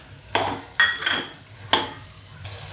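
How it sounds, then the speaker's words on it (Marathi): Green peas tipped into a pan of potato bhaji and stirred, with several sharp metallic scrapes and clinks of a spoon against the pan over a faint low sizzle, close up and with no talk. "आणि शेवटी मटर ओतायचं मागून."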